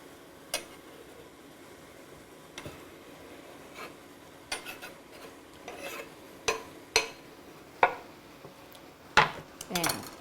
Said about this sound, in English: So now I'm going to add the cabbage to the pan.